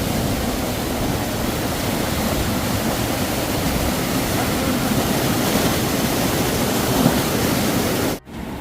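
Fast-flowing mountain stream on the Shrikhand Kailash trek, a loud, continuous broadband rush of water close by, steady throughout with a brief drop near the end, no talk.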